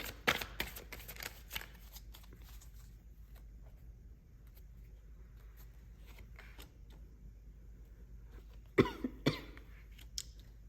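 Tarot cards being shuffled by hand in bursts of crisp riffling and slapping, close and fairly loud, with quiet pauses in between and a couple of stronger flurries near the end.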